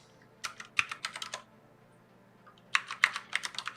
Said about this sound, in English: my typing still sucks